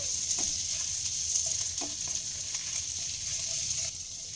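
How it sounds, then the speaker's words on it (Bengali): Soft, steady sizzling of crushed ginger and garlic frying in butter in a pan over low flame, with occasional light stirring sounds and no talking. "লো ফ্লেমে কয়েক সেকেন্ড একটু ভাজা হতে দেবো"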